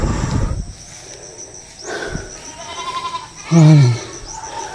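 A lame, wounded pet goat, bleeding from its leg and worn out after being chased by dogs, gives a few short cries and then one loud, strained bleat close by.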